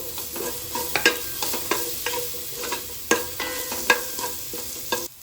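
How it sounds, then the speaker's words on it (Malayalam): Shallots fry in hot oil for a spicy Kerala-style beef roast, a close sizzle broken by repeated scraping stirs of a spatula against the pan, coming every half second or so with no voices. "നെക്സ്റ്റ് നമ്മൾ ഇതിലേക്ക് ചെറിയുള്ളിയാണ് ഇടാൻ പോകുന്നത്"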